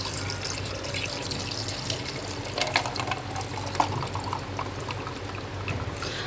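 Falsa juice pours from a container into a jug holding ice, a steady continuous splashing stream with a few brief clinks and spatters, close and fairly loud throughout.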